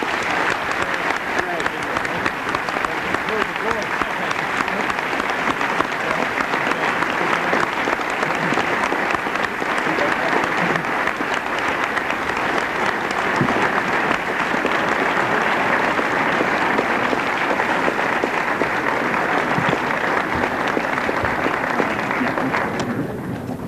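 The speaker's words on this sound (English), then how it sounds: "Chairman Aspin, the level of applause only indicates our appreciation for your wisdom and your service to our country." Sustained, dense applause from an audience at the close of a speech at an American Israel Public Affairs Committee event on U.S. defense policy, a loud, even roar of many hands clapping together for over twenty seconds.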